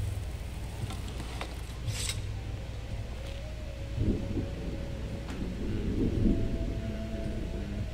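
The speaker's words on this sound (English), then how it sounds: "there's lightning going on" Thunder rumbles low and heavy during a storm in the Skyrim video game, a continuous deep roll that swells louder toward the end, with faint rain and no voices.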